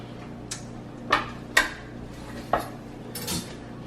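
Sausage and seafood for a seafood boil are dropped into a pot, making a few scattered metallic clanks and thuds over a steady low kitchen hum, close by, with no voices.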